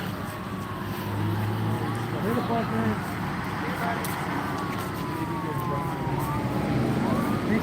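A wailing emergency siren approaches from down a street in Fontana near a DUI checkpoint, its rising and falling tone audible over steady traffic noise and someone talking.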